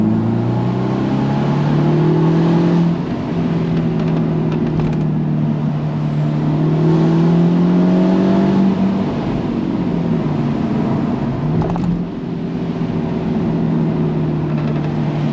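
A Mercedes-Benz SLC 300 Final Edition sports car engine revs hard and accelerates, its pitch climbing and dropping through gear changes. The loud, steady roar runs throughout with no talking.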